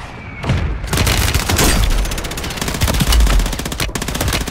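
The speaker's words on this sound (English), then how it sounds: "Mission. Target marked. Solid gun. Mortar strike on the way." Rapid video game gunfire with heavy booms from an incoming mortar strike, a dense and loud barrage of automatic shots that continues throughout without a break.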